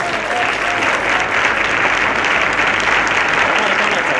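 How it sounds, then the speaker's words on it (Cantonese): Sustained applause from a large audience, dense and steady throughout at a loud, even level. "請大家俾啲掌聲佢"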